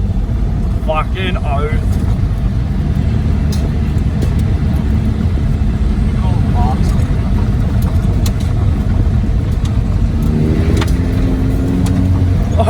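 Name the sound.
car driving fast on a gravel road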